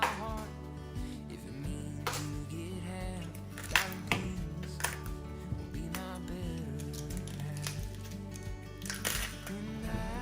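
A knife chops through a cauliflower, cutting it into two sections, with a handful of crisp, separate cuts spread over several seconds against steady background sound.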